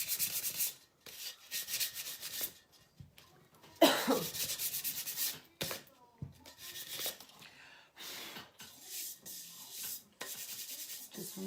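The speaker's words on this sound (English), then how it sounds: "So I'm just going to sand it a little bit more." Sandpaper rubs across a chalk-painted wooden surface in repeated scratchy strokes, close and fairly loud, with short pauses between passes.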